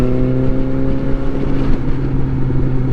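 A Suzuki GSX-S 750 motorcycle engine runs close and loud with a steady droning idle-to-low rev tone, holding constant throughout with no talk.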